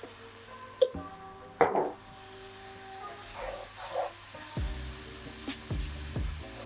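Minced meat filling for Ali Nazik kebab cooks in a pan with a faint, steady sizzle, marked by a couple of sharp clinks early on and soft stirring squelches afterward, with no talking.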